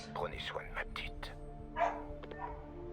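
A dog barks in the video game Marvel's Spider-Man. A few short barks and yips sound mixed with a voice talking over game sounds.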